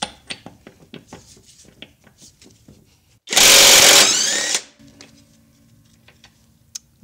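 An Alloyman cordless brushless impact wrench with a 32mm socket hammers loose an axle nut torqued to 150 foot-pounds, a loud, steady burst of rattling impacts lasting about a second, surrounded by quieter ticking and handling noises.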